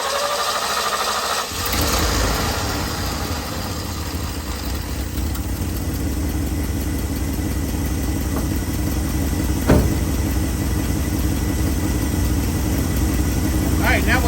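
A car engine fitted with a freshly tuned Holley 4412S carburetor starts after a brief cranking moment, then settles into a steady, loud idle close by, with one sharp rev blip partway through.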